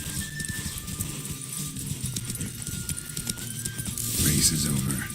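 Hooves of a galloping horse thud rhythmically during a Witcher 3 race, mixed with game sound and a speaking voice, swelling louder near the end.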